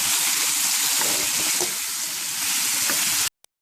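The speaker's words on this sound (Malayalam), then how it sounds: "നമുക്ക് ഈ ചിക്കൻ കഷ്ണങ്ങളിൽ നിന്നുള്ള വെള്ളമൊക്കെ വറ്റി ചെറുതായി മൂട്ടി തുടങ്ങുന്നത് വരെ ഒന്ന് വഴറ്റി കൊടുക്കാം" Chicken pieces for butter chicken sauté in a pan as their water cooks off, a loud, close, continuous sizzle with faint stirring, cutting off abruptly near the end.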